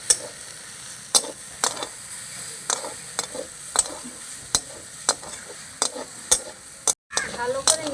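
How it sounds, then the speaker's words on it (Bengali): Sabudana momo filling with a spoonful of vinegar is stirred in a hot pan: a steady close sizzle broken by about a dozen sharp scraping stirs at a loose, uneven rhythm, with no one talking. "এক চামচ ভিনিগার দিয়ে দিচ্ছি ভালো করে মিশিয়ে নেবো"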